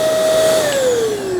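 Tikom V500 cordless vacuum cleaner running on high mode with the brush roller on the power head, a loud steady motor whine whose pitch drifts slightly lower toward the end, heard close and alone.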